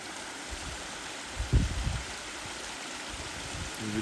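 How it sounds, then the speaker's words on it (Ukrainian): A small mountain spring in the high Carpathians, steady soft trickling and rushing water heard close, with a few low thumps and rustles partway through. "Таке красиве гірське джерело."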